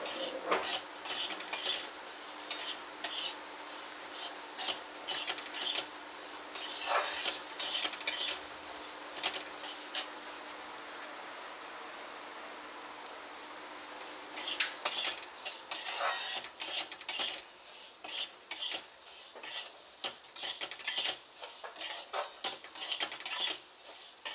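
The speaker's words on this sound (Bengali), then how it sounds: "অল্প গ্যাসের ফ্লেম লো টু মিডিয়ামে রেখে ডালটা ভালো করে ভেজে নিতে হবে।" Moong dal being fried over a low to medium gas flame and stirred in a pan, with repeated metallic scraping and clinking of a spoon against the pan in bursts, a quieter stretch in the middle, then brisk stirring again.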